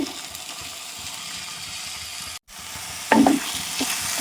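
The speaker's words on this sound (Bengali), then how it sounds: "এই লাল আলুর সাথেই সাবুটা দিয়ে একটু ভেজে নেব।" Sweet potato and soaked sago frying together in ghee, giving a steady soft sizzle with a short break midway, then louder stirring scrapes and clinks near the end.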